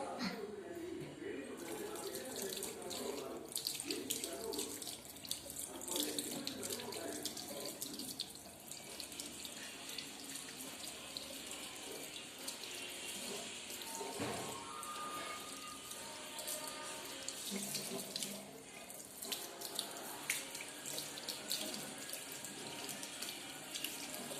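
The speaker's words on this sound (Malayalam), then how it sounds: "നമുക്ക് മൈലാഞ്ചി കഴുകിയിട്ട് വരാം ഗൈസ്" Water runs steadily from a tap while henna is washed off the hands, a faint continuous splashing flow with people talking over it.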